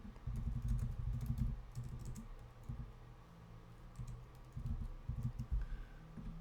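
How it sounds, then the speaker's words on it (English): Someone types on a computer keyboard, producing quick close clicks in uneven bursts with short pauses between them, light and fairly quiet. "Let's just type in side hustles right here."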